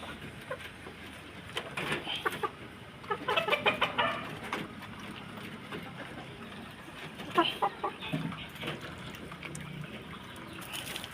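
Backyard cockerels cluck in short bursts over a quiet outdoor background, with the liveliest calls clustered early and again near the end, moderately close but soft.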